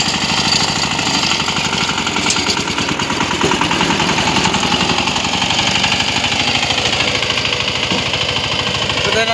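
A tractor engine runs close by on a farm, a loud, continuous rapid clattering throb that holds steady throughout.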